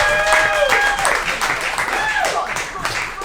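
Audience applause for a comedian at a taphouse open mic, with dense clapping and crowd noise mixed with a few excited voices and whoops, loud and steady throughout before easing slightly.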